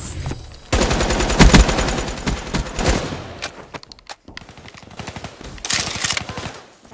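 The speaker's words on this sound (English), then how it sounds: "Explosions went off in there." Explosions in the Black Ops 3 video game, heard as dense rapid bursts of crackling gunfire and blasts that come in two loud volleys with a brief lull between them.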